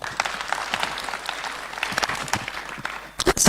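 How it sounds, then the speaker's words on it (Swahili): A crowd at an outdoor youth empowerment meeting in Lower Eastern Kenya applauds, with dense, steady clapping from many hands that swells into louder bursts near the end. "Tumpigie makofi"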